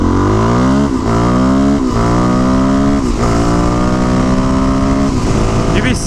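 A Suzuki motorcycle engine revs loudly and close, its pitch climbing in repeated pulls, with brief dips between gear changes, steady and dominant throughout.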